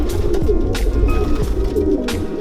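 Racing homer pigeon cooing up close, loud and continuous, with throaty rolling coos repeating over a busy bird-filled background.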